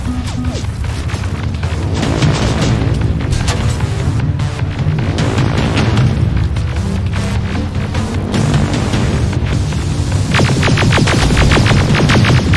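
Grenade explosions in the shooter game Terminator: Resistance, a dense run of heavy booms and crashes layered over loud combat noise, constant throughout with a sharper cluster of impacts near the end.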